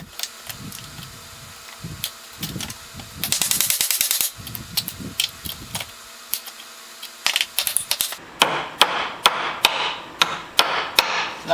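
A hammer works on old boards to loosen nails, first dull thuds and scraping, then a run of sharp, ringing metallic strikes at a steady pace, close and loud.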